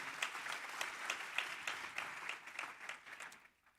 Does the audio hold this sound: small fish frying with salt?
no